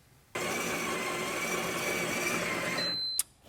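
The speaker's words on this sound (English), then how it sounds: "It automatically recognizes that it's in there. There is a scale in here, so it knows exactly how much grind to give you, and we'll start the grinding process." Ninja Luxe Café espresso machine grinding coffee beans, a sudden steady whirring grind running about three seconds, close and even, ending with a brief high beep.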